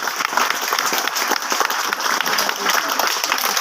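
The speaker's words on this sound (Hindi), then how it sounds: "ओहो, वेरी गुड, जोरदार तालियां" Schoolchildren and guests at an Urdu school in Prasadnagar break into brisk, loud applause, a thick continuous patter with faint voices mixed in.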